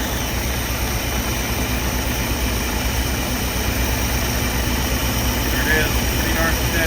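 A cold engine in a 1968 108 Van Winkle vehicle idles with a steady low rumble, close and continuous, with no change in pace across the stretch.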